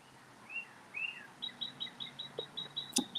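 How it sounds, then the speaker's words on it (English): Birds chirp outdoors in Indianapolis, Indiana: a couple of rising whistled calls, then a rhythmic series of short repeated chirps at moderate distance, with no talking. "The mic does pick up all the bird sounds while I'm on my live stream"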